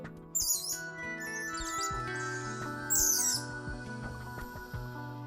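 A Marquesan cuckoo, the Polynesian bird known locally as a cuckoo, gives a few high, sharp calls in short bursts over a steady musical bed, fairly faint overall.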